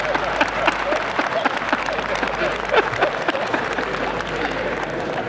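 Audience at a book launch for Muhammadu Buhari applauding in a hall, dense steady clapping that holds throughout.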